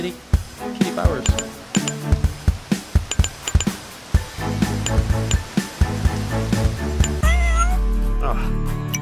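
A cartoon cat character meows repeatedly in the video game Turbo Pug, short bright meows in quick succession over game music and effects, with a person talking at times.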